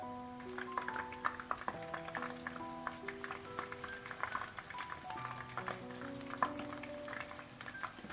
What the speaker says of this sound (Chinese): 接下来将裹好面糊的小鱼放到锅里炸